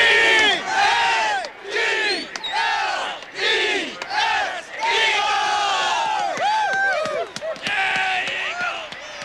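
A loud stadium crowd cheers and roars at a 1981 New York Giants NFL playoff game at Veterans Stadium, Philadelphia, sustained and dense with whoops and shouts throughout.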